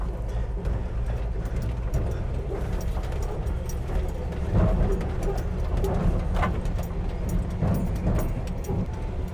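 Jeep Gladiator engine idling steadily on eight cylinders, a continuous low rumble close by with faint ambient outdoor sounds and no talk.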